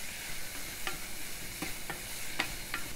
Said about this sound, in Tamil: இப்போ நம்ம இந்த கட் பண்ணி வச்சுருக்க இஞ்சியை இந்த எண்ணெயில் போட்டு நல்லா ஃப்ரை பண்ணணும்